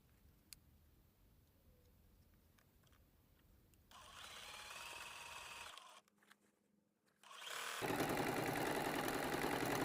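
A sewing machine stitches a quilt border, its motor whirring in bursts of steady mechanical running that stop briefly and then resume louder, with faint ticking before it starts.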